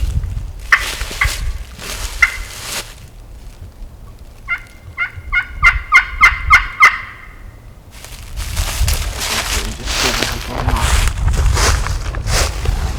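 Wild turkeys gobble outdoors on Kentucky public land in the afternoon, a rapid rattling gobble in the middle, with scattered closer calls and rustling before and after.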